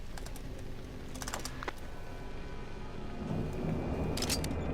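Computer keyboard keys are pressed in quick irregular bursts of clicks during a gaming session of the horror game Cry of Fear, fairly faint over a steady background hum.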